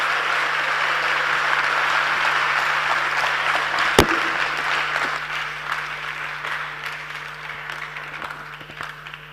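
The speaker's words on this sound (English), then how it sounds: "When they are clapping for you, you are very much in demand." A school audience at a youth dialogue event in Ghana applauds with a dense, steady clapping that slowly fades, broken by one sharp knock midway.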